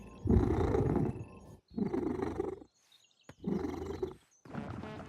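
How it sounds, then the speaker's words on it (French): A cat purrs in rhythmic bursts, four loud rumbling breaths separated by brief quiet gaps, close up and heard alone without talk. "Et bien sûr des cordes vocales pour ronronner."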